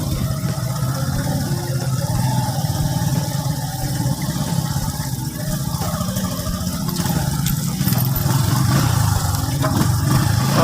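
A motorcycle engine runs steadily close by on an outdoor trip, a rough mid-pitched drone that stays even and then swells a little louder near the end, with no talk over it.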